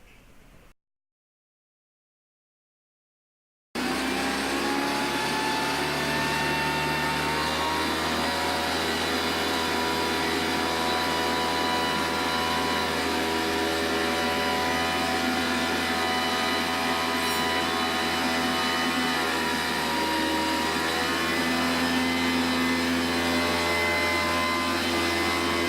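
A hovercraft's lift fan roars steadily and loudly during a test of its newly stitched skirt, a continuous broadband whoosh with a droning motor hum underneath, starting abruptly after a brief silence.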